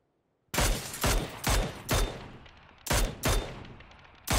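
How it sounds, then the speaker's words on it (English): Gunfire in a video game, aimed at a gang: silence, then six loud shots in an irregular rhythm with short echoing tails and another shot right at the end. Nobody speaks. "Couple of parting shots at Manji Gang."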